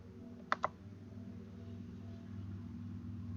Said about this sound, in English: If I just type that in.